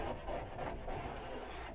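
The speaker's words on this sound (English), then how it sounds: "sandpaper." Sandpaper rubbed by hand over the metal plate of a Disston D8 saw to strip dirt, oil and old coatings, a steady, continuous rasping scrape, close and moderately quiet, with no voices.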